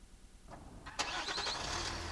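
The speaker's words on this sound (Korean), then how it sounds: "그러다가 혹시나 하는 마음에 다시 시동을 켜본다." A truck engine cranks briefly, then catches with a sharp burst and settles into a steady close idle.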